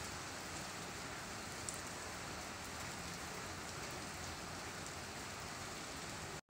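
Steady rain falls continuously at night, a dense hiss of drops on surfaces with no pauses, moderately loud and even throughout.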